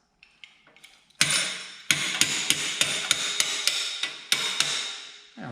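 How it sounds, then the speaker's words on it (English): Hammer tapping on truck suspension parts during a Belltech suspension install: a few faint light taps, then a series of about a dozen sharp, ringing metallic strikes at an uneven rhythm, close and fairly loud. "Use this hammer here. A couple little tippy taps."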